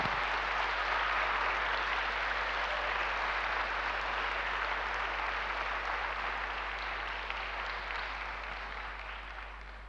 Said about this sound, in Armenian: եկեք մի հատ էլ ծափարենք